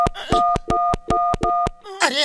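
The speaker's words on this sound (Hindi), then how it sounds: "मैं अमेरिका अपनी मम्मी को फोन लगा रहा हूँ।" A cartoon character dials a public phone booth telephone: six evenly spaced loud keypad beeps in a steady rhythm, followed by a brief warbling tone or voice at the end.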